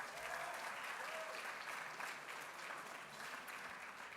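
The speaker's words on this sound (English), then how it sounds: "give yourselves a round of applause" Steady round of applause from a gala awards audience, a dense even wash of clapping heard from a distance, faint and continuous throughout with no voices standing out.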